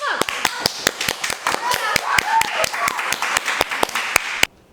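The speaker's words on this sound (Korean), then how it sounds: "회장님께도 회장님 박수 한번." A small group of education department students claps their hands close by in loud, crisp, irregular slaps over a few seconds while voices sound faintly beneath, then the clapping stops abruptly.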